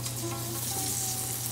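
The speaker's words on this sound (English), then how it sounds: "Check the oil if it is hot by adding few drops of batter." A few drops of gram-flour batter sizzling in hot oil in a pan before frying eggplant fritters, a steady close crackling hiss with no voices.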